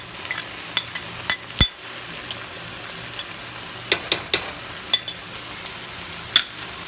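Thin-sliced olives stirred into a sizzling empanada filling in a pan, with a soft fry hiss under a dozen or so sharp clinks and scrapes of a utensil at an uneven pace.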